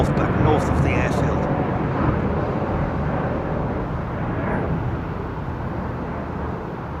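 Rolls-Royce-powered jet airliner taking off at London Heathrow Airport and banking left, a loud continuous broadband roar that slowly fades, with a person talking over it.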